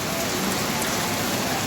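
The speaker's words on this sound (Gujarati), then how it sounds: "ધોધમાર વરસાદ સવારમાં જ ચાલુ છે." A steady downpour of heavy morning rain in Mehsana, a dense, even hiss of drops drumming on surfaces, loud and unbroken with no voices over it.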